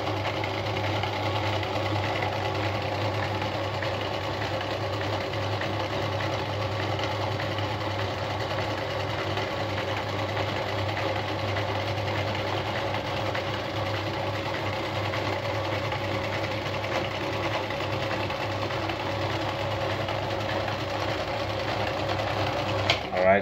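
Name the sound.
Singer 319K sewing machine sewing a disc cam design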